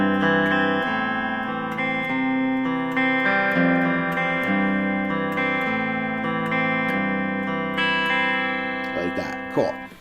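The intro riff of a song played on an electric guitar through effects, a loud, steady string-skipping picked pattern of distinct notes ringing together, ending with a brief scrape.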